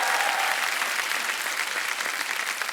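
Steady, dense applause from a studio audience at a comedy talk show fills the whole stretch evenly, loud and continuous with no pauses.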